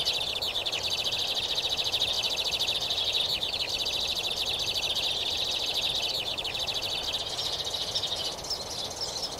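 A flock of sparrows chirping, a dense, continuous chatter of high, rapid tweets from many birds overlapping throughout, fairly close and with no talking.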